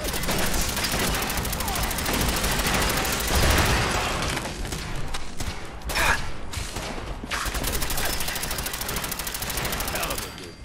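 Robot gunfire in the Fallout 4 Nuka-World arena fight, continuous rapid automatic bursts with booms and mechanical clatter lasting several seconds, loud and close, with brief pauses and some synthetic speech mixed in.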